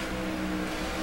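Stock car engine droning at steady high revs in NASCAR '15 on the Fontana oval, a continuous, loud mechanical hum with strong tonal harmonics and no voices, held briefly without change.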